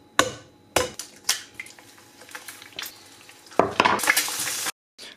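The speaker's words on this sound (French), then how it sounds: "on va casser ce bel petit œuf" An egg is cracked on a pan's edge and dropped in to fry: a few sharp close taps and clinks, then a loud burst of hissing sizzle that stops abruptly, with no talking.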